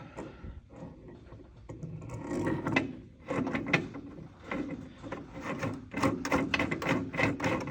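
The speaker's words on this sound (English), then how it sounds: "we will remove our pipe plug nipple out of the way here, nozzle if you will" Metal pipe plug nipple being unscrewed and removed, giving a series of close, uneven scraping and ratcheting mechanical rasps that build in loudness, with no talking.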